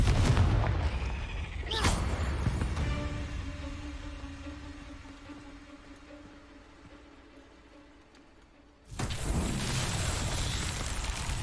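The Confringo blast spell in Hogwarts Legacy, a loud burst with a booming, crackling impact, followed by a lingering ringing tone that fades before a second blast erupts near the end.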